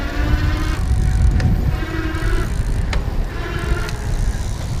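A 2015 EG Maui 500 EX electric bike motor runs in level 5 pedal assist, giving a steady whirring hum over road and wind noise that swells and eases in a few surges, with sharp clicks from gear shifting.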